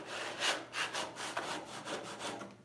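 A hand saw resaws an 8-inch-wide walnut board with steady, close rasping strokes, about five back-and-forth pulls in a regular rhythm, each stroke swelling and fading.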